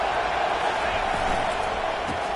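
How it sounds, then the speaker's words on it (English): Dense, steady roar of a football stadium crowd on a third-down defensive stand, broad and continuous without pause, loud and swelling slightly across the moment with scattered shouts inside the wash of noise. "Decibels rising as the crowd gets behind this defense on 3rd down."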